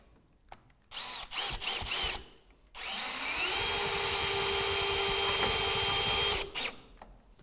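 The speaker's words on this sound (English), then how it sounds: "secure the top brackets using the remaining 80mm screws and to tighten the 30s" A power drill drives 80mm screws into the top brackets of a Velux top-hung roof window, giving a few short bursts before one long, loud, steady run of whining that ends abruptly.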